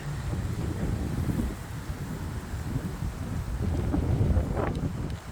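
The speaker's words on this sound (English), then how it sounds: "That wind is whipping." Strong, gusty wind from a microburst roars steadily outdoors as a broad, rumbling rush that swells and buffets the microphone throughout, with faint rustling mixed in.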